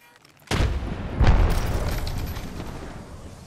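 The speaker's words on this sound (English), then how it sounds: "Frag out. Throwing Arc Star." An Arc Star grenade in the video game Apex Legends goes off after a short quiet lead-in, a sharp near blast followed by a second heavier boom that rumbles and fades over a few seconds.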